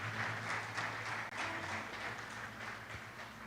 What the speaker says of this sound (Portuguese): Mais uma vez, aplauda o Senhor pela palavra que recebemos nessa manhã.